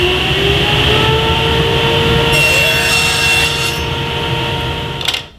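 A table saw rips quarter-inch strips with a GRR-RIPPER push block, a loud steady motor whine with a blade-cutting rasp through the wood, then the cut finishes and the sound tails off near the end.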